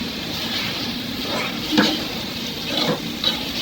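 Sidal dried fish fries with a generous amount of garlic and spices over high heat, making a constant hissing sizzle, close and fairly loud, broken by a few scraping stirs of a spatula.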